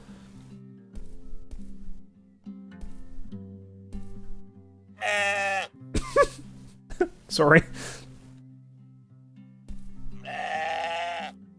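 Sheep in the video game Moirai bleat twice, two loud, wavering bleats several seconds apart over a low game music drone, with a person speaking between them.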